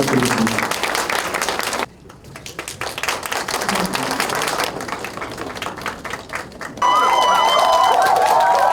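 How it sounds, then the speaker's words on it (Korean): An audience applauds at a Korean political campaign event, with dense clapping that thins briefly and then swells again before bright music tones join near the end. "예, 박수 부탁드리겠습니다"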